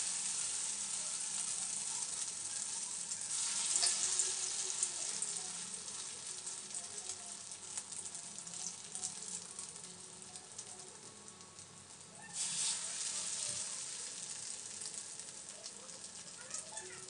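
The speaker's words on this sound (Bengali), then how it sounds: "তো এবার চলো চটপট ভেজে ফেলি।" Food sizzles and crackles in a pan with very little oil, a steady close frying hiss with brief louder bursts where pieces are moved or turned, and a voice talks faintly underneath.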